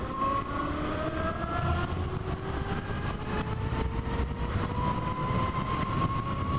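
A Zero SR electric motorcycle being ridden while its motor regenerates off the throttle, making a continuous loud whine with sliding tones over steady road and wind rumble.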